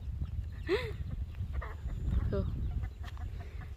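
Chickens cluck outdoors on a Thai farm plot, a few short rising calls standing out over a steady low rumble of background noise, with faint voices in the mix.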